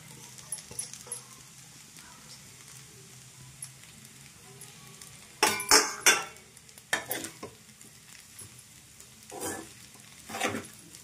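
Aavakaya fried rice is stirred and fried in a pan, with a soft sizzle beneath a few bursts of spoon scraping and tossing, close by and without speech.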